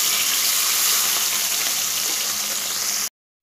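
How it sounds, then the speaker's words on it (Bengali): Pabda fish sizzles in hot oil in a pan, a loud steady hiss filling the space close up for about three seconds before cutting off abruptly to silence. "আমি তেলটাকে খুব ভালোভাবে গরম করে নিয়েছি, এবার আমি মাছগুলো দিয়ে দেব।"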